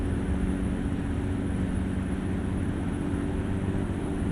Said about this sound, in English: There's an aeroplane in the distance there.